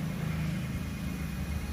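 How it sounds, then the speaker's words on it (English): A Kingtech gas turbine jet engine on a mountain bike lights up with a steady low rumble, a continuous deep drone with no voices. "Then it'll slow down and light and you'll hear a rumble."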